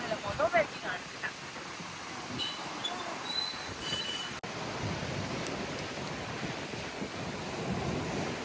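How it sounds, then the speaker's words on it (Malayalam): Strong wind on Agatti island in Lakshadweep rushes as a broad, steady roar buffeting the microphone, with sea surf mixed in and people talking over it. "നല്ല കാറ്റുണ്ടല്ലേ."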